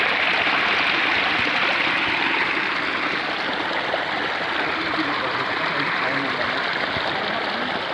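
Irrigation water flows steadily through an onion field, a continuous broadband rush like a stream that holds at an even level for the whole stretch.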